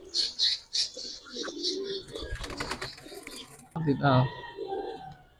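Pigeons coo in low, soft bursts near a person handling a female pigeon, with chirps and rustling alongside, and someone speaks briefly between the calls.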